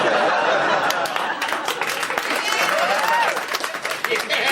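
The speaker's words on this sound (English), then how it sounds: "Don't applaud that." Studio audience applause and some laughter on a comedy television clip show, clapping sustained throughout with a host's voice and cheers mixed over it.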